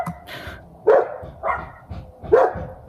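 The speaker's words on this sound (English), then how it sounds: "there's a dog over here and a dog over here, and they're just barking at each other constantly" Neighbours' dogs bark back and forth at each other, with three or four sharp barks spaced about half a second apart and fainter yips between them, fairly close and loud.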